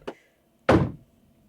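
Two blocky door sounds in a Five Nights at Freddy's Minecraft game: a short soft tap, then a louder, heavier thud as the door opens, close and dry, followed by silence.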